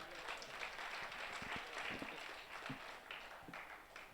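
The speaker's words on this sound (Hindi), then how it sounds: "एक बार तालियां बजा दीजिए" A crowd claps at a Hindi kavi sammelan poetry gathering, a fairly faint, steady wash of applause with scattered sharper hand claps standing out, heard from a distance.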